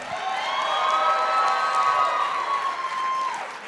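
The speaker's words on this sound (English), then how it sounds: "Let's give a big round of applause for Mr." A rally crowd at a caucus-night event applauds and cheers steadily, a dense wash of clapping and voices from a large audience that swells and then eases slightly, with a long whistle-like tone riding over it.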